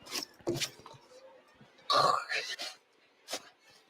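A comic fart sound effect in a school comedy episode, a brief raspy burst set among scattered voices, rustles and other short noises, with people talking around it.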